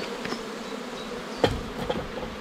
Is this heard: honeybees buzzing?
yes